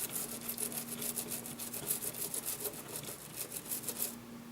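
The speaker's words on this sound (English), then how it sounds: "a little denatured alcohol and dip it into the toothbrush and just clean it up a little bit" A toothbrush dipped in denatured alcohol scrubs electrical contacts in quick, steady strokes, a faint bristly rasp repeating for about four seconds before it stops.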